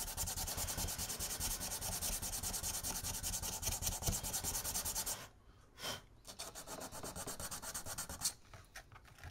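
Hand sanding with sandpaper on a Rick and Morty portal gun prop makes loud, rapid back-and-forth scratchy strokes up close, a steady rasp for about five seconds, then shorter bursts of rubbing after a brief pause.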